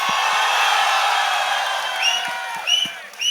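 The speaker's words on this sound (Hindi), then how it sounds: "फिर पहले इमरान भाई के लिए तालियां हो जाए" A crowd at a Tiger 3 success press meet applauds and cheers for Emraan Hashmi, a steady dense roar of clapping with scattered whoops and shouts rising near the end.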